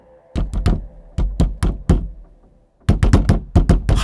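A man knocks on a door in a horror story sound effect: sharp, close raps in quick clusters of three or four, with a brief pause between groups and a longer silence before the final flurry.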